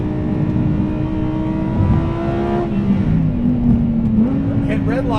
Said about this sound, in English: Hit redline by accident and got an upshift there.